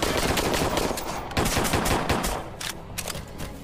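Gunfire in the sci-fi survival video game Dysterra, a loud, dense stream of rapid automatic shots that keeps going without pause, with no talk over it.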